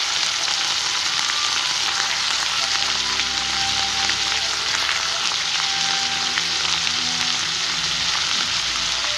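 Pointed gourd (parwal) frying in a pan, a constant bright hiss and crackle of hot oil with faint scattered pops, close and steady throughout, no talking.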